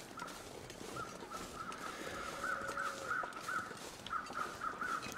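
Crows caw repeatedly in a gathering over corpses in the snowy wilderness of The Long Dark, a steady series of harsh calls at moderate distance over faint wind.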